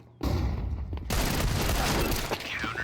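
Gunfire erupts in a Faceit Counter-Strike match: a sharp opening shot followed by a dense burst of rapid shots that fill the moment, loud and close.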